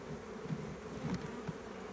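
Honeybees hum inside a Langstroth hive, a soft, steady drone of many wings with no voices, fairly quiet and close, swelling slightly in brief pulses.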